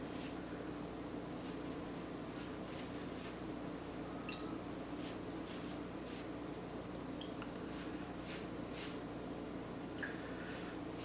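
Water brushed onto a scored loaf of homemade Italian bread before baking: soft, wet dabbing and brushing strokes repeat irregularly, close up, over a steady hiss of room noise, with no talking.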